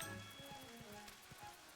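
Steady rain ambience from Final Fantasy XI, a continuous soft hiss of falling rain with faint pattering drops, mixed with tonal game music lines and no talking.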